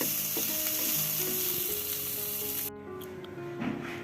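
Cauliflower fries in a pan as a winter vegetable dish, giving a dense, close, steady sizzle with faint clinks. It cuts off sharply partway through and leaves quieter, scattered crackles.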